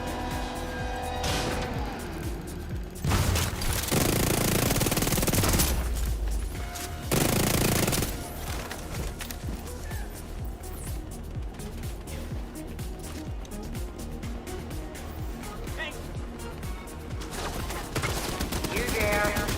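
Burst-fire weapon in The Division 2, loud rapid volleys of gunfire in several dense clusters early on, then continuing crackling shots and game ambience through the rest.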